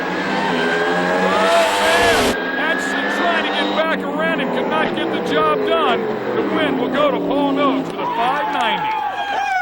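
Alcohol funny car making a drag racing pass at an IHRA national event, a loud roaring engine at the start that gives way to a continuous race-track din beneath steady announcer commentary.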